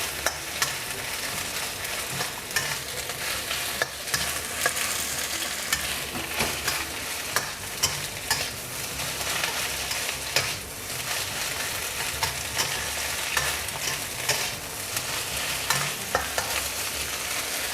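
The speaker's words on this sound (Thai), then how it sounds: "ผมจะใส่ กุนเชียงพันสุกลงไปเลยนะครับ แล้วก็ผัดให้เข้ากันนะครับ" Chinese sausage is stir-fried for mala fried rice, a continuous close sizzle broken by frequent scraping and stirring clatters of a spatula in the pan, with no talk.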